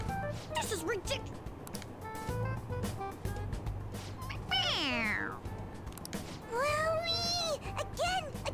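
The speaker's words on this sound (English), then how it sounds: "It meows when you press on its head." Stuffed toy cat from Persona 5 Royal meowing when its head is pressed, two drawn-out, bending meows heard alongside game voices and background music.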